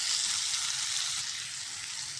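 Chopped vegetables sauté in a pan over a medium flame, a steady, close hiss of sizzling oil with no pauses.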